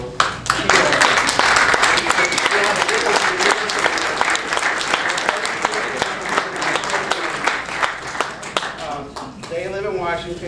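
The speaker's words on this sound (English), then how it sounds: "So I would like to applaud all of you here." Seminar audience applauding at length, a dense, loud wash of many hands clapping close by, with voices mixed in throughout and the clapping thinning near the end.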